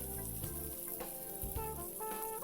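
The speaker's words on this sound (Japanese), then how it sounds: "表面ちょっと焼いていただいて、 焼き色をつけるっていうぐらいでとどめておいてくれたらいいです" Pork searing in a frying pan for a pork poêlé, a faint, steady sizzle and crackle of fat running throughout, with occasional soft scrapes or pan movements and no talking.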